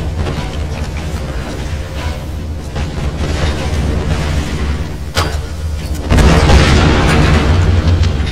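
A deep, rumbling in-game explosion in Tomb Raider, a sustained low roar that swells suddenly louder partway through, with crackling debris and heavy bass, no talking over it.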